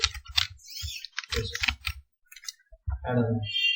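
Keys clatter on a computer keyboard in quick bursts of clicking with short pauses, close and clear, followed by a brief voice near the end.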